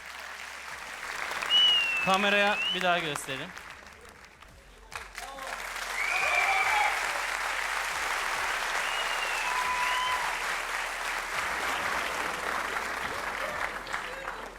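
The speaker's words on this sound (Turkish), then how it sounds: "Alkış alalım arkadaşlar." An audience at a live event bursts into applause right after a brief spoken request, the clapping swelling into a steady, full round that carries on evenly for around ten seconds, with a few faint voices over it.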